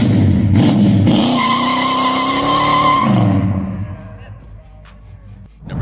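A muscle car engine revs loud and close in a sustained, rising roar with tire squeal, then fades away after a few seconds.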